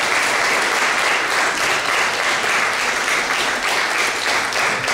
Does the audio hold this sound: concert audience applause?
yes